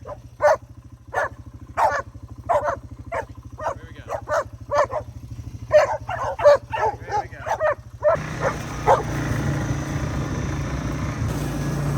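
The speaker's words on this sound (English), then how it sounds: "She's a little cattle dog." A little cattle dog barks in a run of sharp, evenly spaced yips and bow-wows, close and loud, followed by a burst of quicker excited barks before a broad noisy hum takes over.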